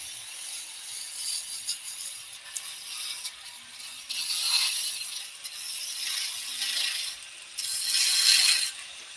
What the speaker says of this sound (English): The skew chisel does a planing cut. This is a planing cut.